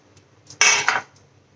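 A wok set down on a gas stove with a brief clatter of pots and metal utensils, one sharp clanking burst followed by a couple of lighter knocks, close and alone in a quiet room.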